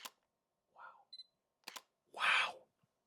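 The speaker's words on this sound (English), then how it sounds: "And listen to this shutter sound." Sony A7C II mirrorless camera firing its shutter, a few crisp mechanical clicks with a short electronic beep, close and quiet, heard alone with no talking.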